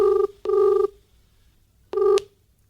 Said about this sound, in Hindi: फ़ोन लगाता हूँ